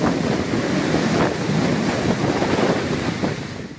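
Heavy wind and surging tidal waves at Haldia port in East Midnapur make a loud, steady roar of rushing air and breaking water that fills the whole stretch without pause.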